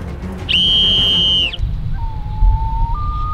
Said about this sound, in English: Ready for me to test the whistle?